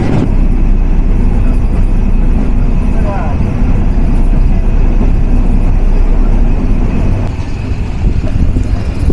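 Nilsagar Express passenger train running on the line near Tangail in the rain, a loud, continuous dense rumble of wheels and carriage noise from on board, steady throughout with little variation.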